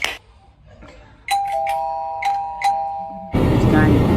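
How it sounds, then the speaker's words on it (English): A cartoon doorbell chimes in a run of clear, bright ding tones spaced irregularly over a few seconds, followed by a sudden loud burst of noise. "Which kind of doorbell is this?"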